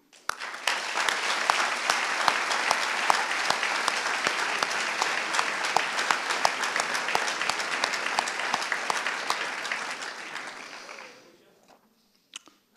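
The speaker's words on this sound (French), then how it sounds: "Permettez-nous de vous applaudir, chers plaideurs" An audience at a French pleading competition semifinal applauds the competing advocates, dense sustained clapping from a large crowd for about ten seconds before it fades out, with a few isolated claps afterward.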